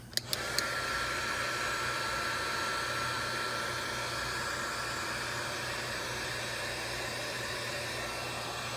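A heat gun blows a steady, continuous rush of hot air to dry heat-cure repair compound, with a few clicks at the start, close and even in level, with no talking.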